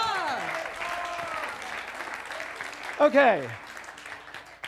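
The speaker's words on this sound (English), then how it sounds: "Let's have a round of applause" A congregation at a Sunday morning Center for Spiritual Living service in Westlake Village breaks into applause, a burst of clapping that swells midway, with a voice speaking over and around it.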